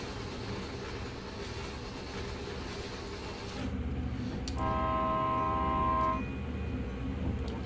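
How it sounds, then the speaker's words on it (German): A train in the Train Sim World 2020 railway simulator rumbles past at a level crossing, a steady mechanical roar that swells before a clear horn toot sounds over it. No speech. "Währenddessen lassen wir einfach mal hier den Zug vorbeifahren."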